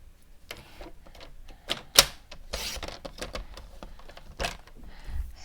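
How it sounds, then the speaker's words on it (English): A paper trimmer slices cardstock into 1-inch strips for handmade fall-themed cards, giving a run of close, crisp clicks and swishes with a few sharper blade snaps. "So I use the paper trimmer"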